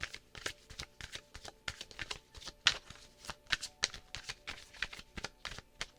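Rapid, crisp riffling of a deck of cards being shuffled, repeated bursts in an uneven rhythm, close and fairly quiet, with no talking.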